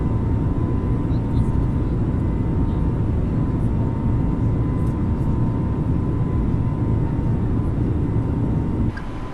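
An airliner's engines roar in Microsoft Flight Simulator 2020 during takeoff from Las Vegas, a loud, steady broadband rumble with a faint tonal hum that holds without letup until it drops slightly at the very end.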